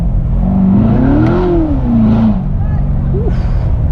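A 2016 Chevrolet Corvette C7 Stingray's engine drones loudly from inside the cabin, its pitch swelling and falling under a steady low rumble as the throttle is blipped, while someone talks over it.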